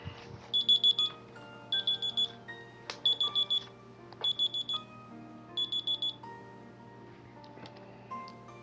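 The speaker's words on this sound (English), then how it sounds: "Damn alarm." An alarm clock rings in the visual novel game Sakura Succubus 4: five evenly spaced bursts of rapid high electronic beeping sound over a soft, sustained background music score.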